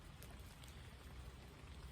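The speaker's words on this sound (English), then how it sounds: "It's starting to rain a little bit more now" Light rain falling outdoors, a faint, steady patter and hiss that stays even throughout, with no voices.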